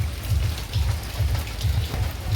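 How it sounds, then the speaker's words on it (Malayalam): Heavy rain pours steadily outdoors near hills, a close, dense hiss with a low rumbling undertone. It continues without a break, and no one speaks. "മഴ തുടങ്ങി കേട്ടോ. കിടിലോസ്കി മഴ."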